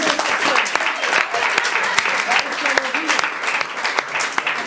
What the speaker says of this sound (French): Si vous pouvez en applaudir Amandine qui m'a rejoint.